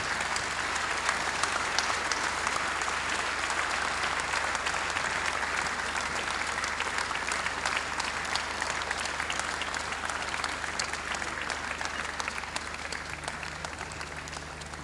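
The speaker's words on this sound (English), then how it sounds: "Please keep on clapping." A crowd at a prayer breakfast in Abuja applauds after a speech, with steady, sustained clapping throughout at an even loudness.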